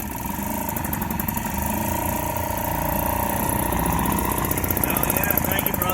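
A Sears outboard motor runs steadily without the choke, a loud continuous mid-pitched engine drone with a slight unsteady waver as if close to dying, heard up close for the whole stretch.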